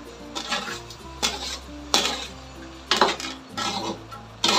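Metal spoon scraping and clinking against a pan while stirring ham, cheese, mushroom and all-purpose cream, with several bursts of scraping in an uneven rhythm, up close and with no talk.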